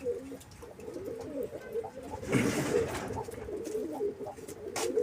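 Tumbler pigeons coo softly in a coop, repeated low throaty calls over a faint rustling background, with a brief louder flutter-like burst in the middle.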